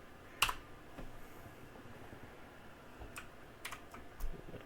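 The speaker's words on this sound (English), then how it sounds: "Type your name, hit enter." Typing on a computer keyboard during Windows 3.1 setup, a sharp click at the start followed by a few light, scattered keystrokes, faint and close with no talking.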